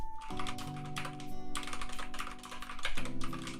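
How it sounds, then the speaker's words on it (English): Rapid, steady typing on a rubber dome computer keyboard produces soft, muffled key presses in a continuous close-up patter over quiet background music. "it sounds a lot more like a keyboard than my keyboard."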